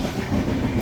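A train runs on rails in a brief, low, continuous rumble heard from on board at moderate loudness.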